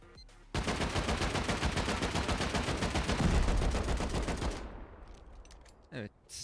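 Rapid automatic fire from an AK rifle in the Rust video game hammers a garage door in one loud sustained burst lasting several seconds, then cuts off abruptly, followed by a few faint clicks and a short thump.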